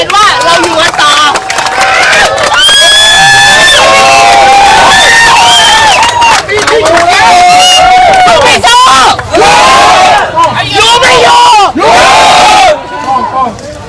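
Large crowd of students singing and chanting together, loud and close, with overlapping voices rising and falling in shouted phrases and constant babble throughout.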